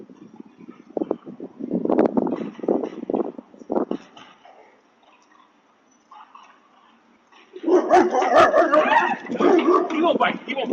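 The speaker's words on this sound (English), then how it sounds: "He won't bite you. He just barks." A dog barks and yips in quick bursts outdoors, close and loud, with a pause before a second, louder flurry of barking, while people talk over it.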